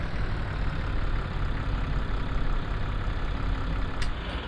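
A tractor engine idles steadily in the snow on a farm, a low, constant rumble that holds at an even level throughout with no breaks.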